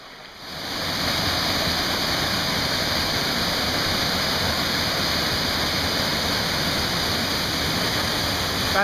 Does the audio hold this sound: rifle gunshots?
no